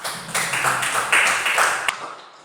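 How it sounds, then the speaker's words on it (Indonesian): Students in a classroom clap for a classmate named Dimas, a short burst of many hands lasting about two seconds, fairly close, then cutting off abruptly. "Oke, tepuk tangan Dimas."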